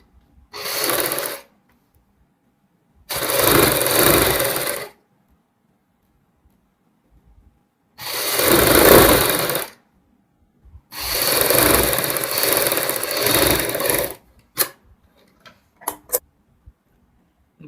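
Sewing machine running in four separate bursts of stitching along the side seam of a baby frock, each burst a second or two long with quiet gaps between, followed by a few faint clicks; no talking.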